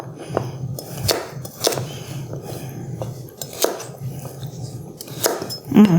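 A Santoku knife slices baby carrots on a cutting board, giving a series of sharp, close chops and taps at an uneven pace alongside light clinks.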